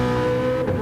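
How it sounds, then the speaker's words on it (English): A race car engine screams at high revs in a racing video game, a loud sustained buzzing drone with steady pitch that dips briefly, with no speech. "we have the volume of the car way loud, so that people can hear the car screaming"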